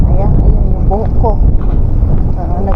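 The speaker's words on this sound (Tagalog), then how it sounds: "ang lakas ng hangin" Strong wind buffets the microphone on a city walk, a loud, continuous low roar with a person talking over it.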